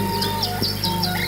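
Birds chirp repeatedly in short, bright, evenly spaced tweets over a constant hum of insects around a village Islamic boarding school surrounded by dense trees.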